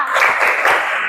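Group clapping at an Indonesian teachers' coaching session for academic supervision: a dense, steady burst of many hands clapping together, loud and close, filling the short moment without voices.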